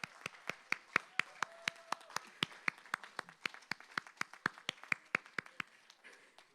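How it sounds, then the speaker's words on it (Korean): A church prayer-meeting audience claps in a steady, rhythmic beat to encourage a young man in a white jacket to come forward. The sharp, evenly spaced claps are fairly quiet and continue for several seconds. "우리 힘차게 나오실 수 있도록 격려의 박수 불러드려도"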